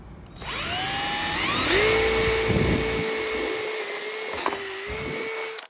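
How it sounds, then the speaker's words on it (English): A Bauer power drill from Harbor Freight spins up to a high, steady whine as it bores a hole through plywood, close and loud, then winds down at the end. "So I'm gonna drill a hole right here to get my jigsaw bit through."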